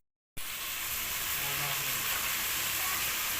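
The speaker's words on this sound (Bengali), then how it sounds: "জলটা দিয়ে দিলাম" Water poured into a hot pan of frying chicken masala with ground spices, ginger, cumin and chili, bursting into a loud, steady sizzle and hiss that starts abruptly after a brief silence and continues close up.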